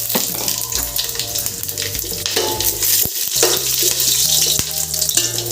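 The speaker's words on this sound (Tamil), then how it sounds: "அந்த பட்டை, கிராம்பு, ஏலக்காய், அன்னாசிப்பூ, பிரியாணி இலை, கல்பாசி இதெல்லாம் போட்டு நம்ம தாளிக்கணும்." Whole spices like cinnamon, cloves, cardamom, star anise, bay leaf and stone flower sizzle and crackle in hot oil for chicken biryani, a steady loud frying hiss with occasional stirring and utensil knocks, no talking.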